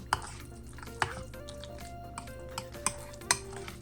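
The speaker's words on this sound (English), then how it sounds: "you just make sure that you stir all the ingredients" A spoon stirs creamy mashed potatoes mixed with dill weed, making soft wet squishes and a few light clinks against the bowl at an uneven pace, close and quiet, with no voices.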